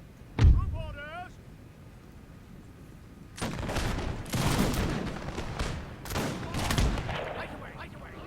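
Rifle volleys crackle from massed infantry lines in Napoleon Total War with the Zulu mod, fighting the Rorke's Drift battle: a short voice and sharp report open, then several dense, rolling bursts of gunfire overlap loudly.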